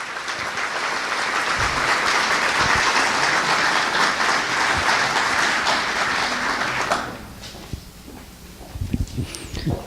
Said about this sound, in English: I think they deserve a huge round of applause as they come up,